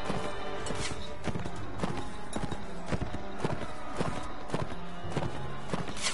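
Horses in the Mount and Blade video game: dense, continuous clip-clop of many hooves under a loud, busy battle din, steady throughout with no clear neighing.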